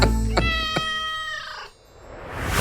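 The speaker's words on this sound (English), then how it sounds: "my partner picked up the cat that was in the room and went over the person" A house cat meows several times in a medical setting, close and clear, with drawn-out harmonic cries, as it is lifted and held over a patient.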